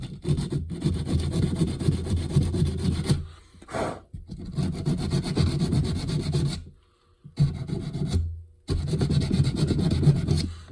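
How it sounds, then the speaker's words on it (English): Emery cloth scrubbing corroded metal on an axe holder, a steady loud rasping rub in long continuous strokes with a few brief pauses between bursts. "we're just gonna clean this up with the emery cloth"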